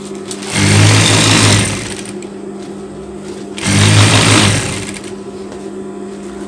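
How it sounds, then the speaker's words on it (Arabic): Sewing machine stitching the underarm seam of a cardigan in two loud bursts of rapid whirring, with quiet pauses between them. "اذا مباشره غادي نخيط تحت الابيط، غادي نشد ونجمعهم."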